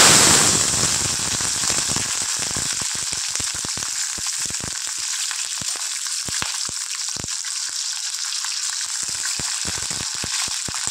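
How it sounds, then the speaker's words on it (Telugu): About twenty green chillies fry in hot oil for a tomato chutney. A loud, dense sizzle at the start settles into a steady hiss broken by frequent sharp pops and crackles, heard close with no voices. "ఇగో ఇలా ఫ్రై చేసుకోవాలి ఫ్రెండ్స్. మిర్చి మంచిగా వేగితే పచ్చడి టేస్ట్ ఉంటుంది"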